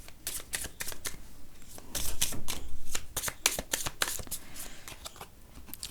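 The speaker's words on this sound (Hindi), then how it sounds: "यहाँ पे कार्ड्स आने शुरू हो गए हैं।" Tarot cards being shuffled by hand, a rapid run of crisp riffling bursts and soft slaps repeating at an uneven rhythm, close and clear with no talk.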